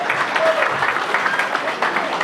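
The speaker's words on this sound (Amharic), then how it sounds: "አጨብጭቡለት።" Wedding guests clap briefly after a ring exchange, a short burst of moderate applause with a voice or two faintly mixed in.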